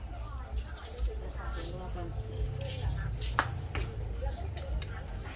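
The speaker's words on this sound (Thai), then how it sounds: "กำลังตำส้มตำเจ้าค่ะ" Green papaya salad (som tam) being pounded in a mortar, with dull, irregular knocks and scraping thuds continuing under steady nearby conversation.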